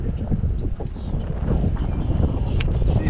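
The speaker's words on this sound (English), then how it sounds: "Wind's picking up a little bit" Wind picks up by a river, a steady broadband rush with buffeting against the microphone, constant and fairly loud for a few seconds.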